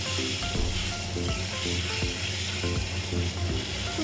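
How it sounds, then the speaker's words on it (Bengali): Fish frying in a pan in a home kitchen, a steady close sizzle and hiss with faint stirring and clinks now and then, no voices. "এদিকে আমি মাছটাও ভাজতে বসিয়ে দিয়েছি"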